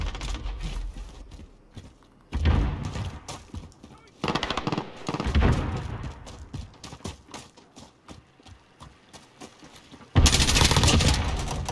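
Bursts of rapid gunfire in a modern free-for-all shooter come in loud clusters separated by quieter stretches, with a sustained heavy volley at the end; a voice talks intermittently in between.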